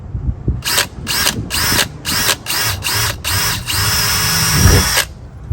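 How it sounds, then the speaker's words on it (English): A power drill whines in short repeated bursts while drilling a hole in a steel door, about eight pulses, then one longer continuous run, close and loud. "So let's go ahead and drill our hole."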